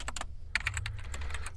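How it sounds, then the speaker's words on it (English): Rapid clicking keystrokes on a computer keyboard, close and distinct, arriving in uneven bursts with a few sharper key strikes standing out, alone without any talk. "His fingers glide over the keyboard"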